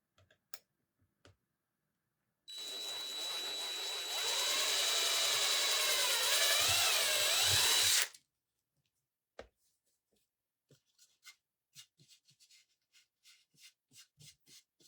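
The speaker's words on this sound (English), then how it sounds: "I need to go ahead and drill these holes" An electric drill runs continuously for about six seconds, boring holes through a wooden round, its whine rising slightly in pitch partway through, followed by scattered light taps and handling clicks.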